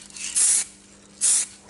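An aerosol spray can, an expensive brand of spray used on an adapter fitting, gives two short hissing bursts about a second apart, close and fairly loud, with quiet gaps between them.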